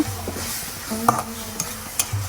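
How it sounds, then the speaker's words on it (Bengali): Spice paste stirred and fried in a pan for home-cooked greens, with a steady sizzle under scraping spoon strokes and a few sharp clinks against the pot, close and alone. "এখন আমি মশলাটা ভালো করে কষিয়ে নেব।"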